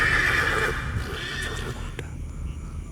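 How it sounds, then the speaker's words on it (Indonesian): A horse whinnies loudly at the start, then hooves clip-clop softly while the neigh fades, heard close with no talk. "udah situ ada suara kuda"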